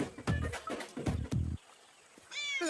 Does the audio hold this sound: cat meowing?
yes